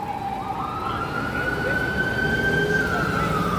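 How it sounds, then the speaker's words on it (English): A wailing emergency siren rises and holds steady, loud and continuous over a low rumble of New York City street traffic. "Y'all hear the sirens?"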